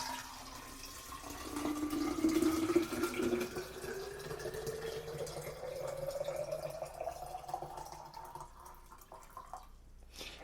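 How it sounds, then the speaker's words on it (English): Water pours into a decanter, a soft rising fill tone climbing steadily in pitch as the vessel fills, faint and close, ending with a brief clatter. "then add the water to the decanter"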